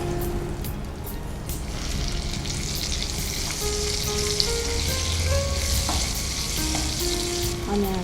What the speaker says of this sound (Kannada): ಆನಿಯನ್ ಸ್ವಲ್ಪ ಫ್ರೈ ಆದಮೇಲೆ